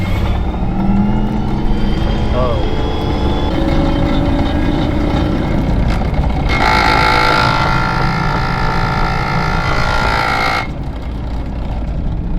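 A Lexus IS300 with a swapped W58 manual gearbox and a blown transmission runs loudly with a constant heavy engine roar; a harsh whining grind rises over it for several seconds, and one person briefly exclaims.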